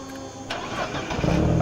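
Racing car engine from the RaceRoom sim racing game, heard from behind another car, building from a low rumble into a louder rising drone over under two seconds, with no talk.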